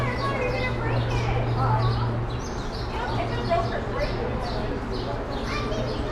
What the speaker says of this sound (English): you guys hear all the chatty birds?